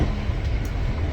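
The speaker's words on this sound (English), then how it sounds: "Good train going past that window." A low, steady rumble of a passing Transport for Wales Class 197 train on the Manchester Piccadilly to Chester line fills the short stretch, heavy and continuous with no voices.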